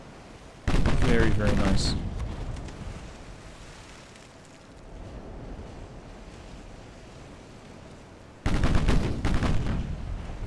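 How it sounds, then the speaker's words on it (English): Secondary guns of a Yamato battleship in the naval game Ultimate Admiral: Dreadnoughts let off two loud, roaring volleys separated by several seconds of low rumbling, with someone speaking briefly between them. "when some of the secondaries are going off"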